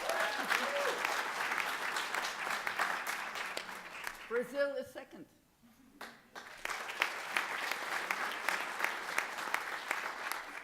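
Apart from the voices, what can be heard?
audience applauding at naturalization ceremony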